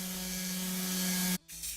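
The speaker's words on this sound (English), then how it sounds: "I applied about 6 coats of spray paint to the bottom of the board" A continuous hiss of a spray paint can spraying close up onto the bottom of a board, cutting off abruptly, then a brief second short spray.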